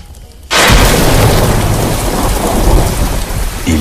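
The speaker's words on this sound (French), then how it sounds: "Il pleut." A thunderstorm bursts in abruptly after a quiet moment: loud, close rumbling thunder over a heavy, continuous downpour of rain hitting surfaces, sustained to the end with no voices.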